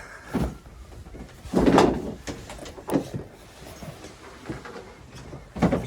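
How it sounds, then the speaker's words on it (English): Door of an Isuzu D-Max tub (canopy) shut from inside, giving several short knocks and thumps spread across a few seconds, fairly close and moderate in loudness, with no talking. "I'll jump in the tub now, shut the door and show you guys what it looks like."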